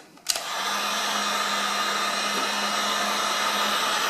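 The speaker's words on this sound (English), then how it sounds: "Then use your heat gun to shrink it down." A heat gun switches on with a click and then blows a steady, fairly quiet whirring hiss with a faint tonal hum while shrinking heat-shrink tubing over wires, close by and without speech.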